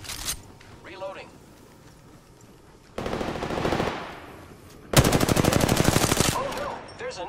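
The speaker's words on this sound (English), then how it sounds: "Hey, I'm getting shot!" Video game gunfire is heard as two rapid automatic bursts, one short and one longer and louder, against quieter game sounds. A player talks over it.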